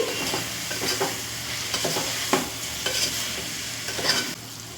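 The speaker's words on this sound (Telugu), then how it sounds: "ఇప్పుడు ఇదంతా బాగా మిక్స్ చేసుకోవాలి" Egg and tomato pulao mixture, with fried egg added, stirred in a pan: repeated scraping spoon strokes at an uneven pace over a steady soft sizzle, close and moderately loud, no voices.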